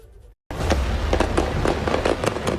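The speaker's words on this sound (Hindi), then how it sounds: "दिन दहाड़े तालिबानियों ने बरसाई गोलियां" Rapid gunfire crackles along a Kabul street in a dense run of sharp, repeated bangs, fairly loud and close, after a brief silent gap at the start.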